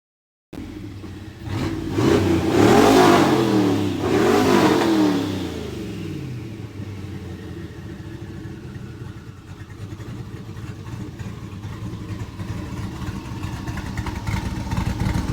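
A 1,000 horsepower twin-turbo L96 Trans Am engine revs hard twice in quick succession, loud and close, then settles into a rough, lumpy idle that carries on steadily.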